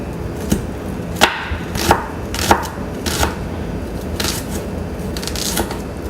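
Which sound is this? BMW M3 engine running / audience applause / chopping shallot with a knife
chopping shallot with a knife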